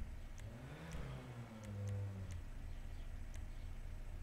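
An upgraded car engine revving in the video game GTA 5, a short rising rev that swells and fades, close and alone over a low hum.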